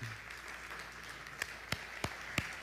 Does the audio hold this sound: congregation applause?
yes